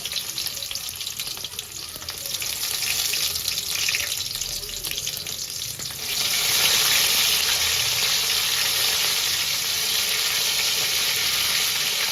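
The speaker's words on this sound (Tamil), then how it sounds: "இப்போ வந்து பூண்டு வந்து சேர்த்துக்கிறாங்க" Garlic sizzles steadily in hot oil for a dry fish curry, karuvadu kuzhambu, a dense close frying hiss that grows louder and fuller partway through, with watery running texture and no talking.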